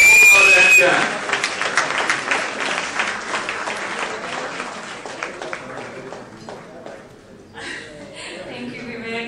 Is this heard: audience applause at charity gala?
yes